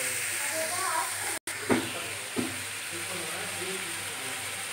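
Tomatoes going into hot oil in a pan for a Tamil fried kuzhambu, producing a continuous moderate sizzle and hiss with a couple of sharp clatters of utensils, alone without speech.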